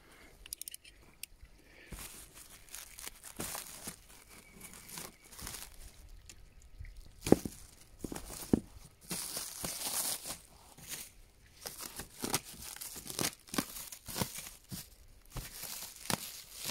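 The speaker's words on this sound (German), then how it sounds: "Das werden wir jetzt mal zusammen auspacken." Someone unpacks a parcel holding a Victron MPPT charge controller, making intermittent crinkling, rustling and tearing of packaging with sharp close crackles and soft handling sounds between, fairly quiet overall and with no talking.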